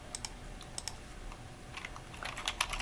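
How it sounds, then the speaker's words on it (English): Quiet keystrokes on a computer keyboard come in short, scattered clusters of clicks, with a brief pause mid-way and a quicker flurry of taps near the end, all faint and close with no other sound. "Let me first type this down."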